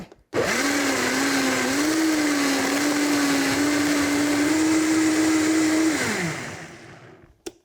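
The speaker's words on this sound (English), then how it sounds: "Like I said, you can use any type of blender you want." A blender purees ripe tomatoes, motor whirring loudly and evenly for about six seconds after a sudden start, then winding down as it switches off.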